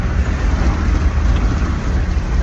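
Steady, loud rain pours outdoors as a dense, even wash of noise with no breaks and no voices.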